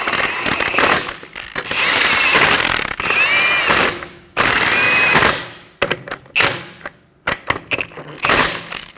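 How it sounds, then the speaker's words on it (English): A ratchet tightens the wheel lug nuts on a Toyota Highlander in bursts of loud, rapid clicking, several runs of pawl chatter separated by short pauses, then shorter choppy clicks toward the end, with no voices. "Tighten them down in a star fashion, making sure that the wheel sits square."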